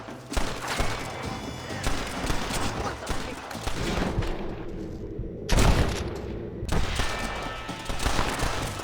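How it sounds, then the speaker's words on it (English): Bursts of gunfire crackle during a shootout at a farmhouse in Red Dead Redemption, with rapid volleys and heavy booms that rise and fall, briefly dropping away before a loud blast and more shots. "Stop shooting at me!"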